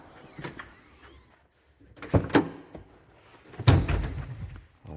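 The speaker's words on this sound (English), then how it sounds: "Open the back up." The rear door of a 105 series Land Cruiser is worked open at close range, with a couple of heavy thunks and latch clunks separated by short gaps, alone without talk.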